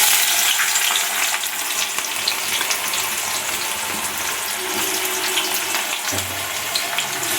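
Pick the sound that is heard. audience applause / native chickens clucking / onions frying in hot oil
onions frying in hot oil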